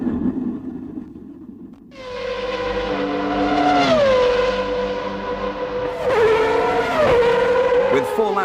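Formula 1 race cars at the 1994 Australian Grand Prix, loud high engine whines that rise and drop with gear changes as cars pass one after another.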